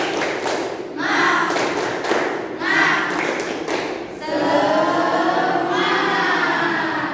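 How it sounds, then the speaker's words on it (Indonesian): A class of students doing a rhythmic spirit clap in a classroom: bursts of sharp, patterned claps separated by short pauses and chanted voices, ending in a longer run of clapping mixed with voices. "Ayo, tepuk semangat."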